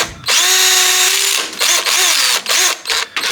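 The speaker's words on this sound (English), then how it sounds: "So I'm gonna grab the drill and try it again," Power drill running in loud bursts, whining up to speed, holding, then stopping and restarting several times in quick stutters, close and alone with no talk.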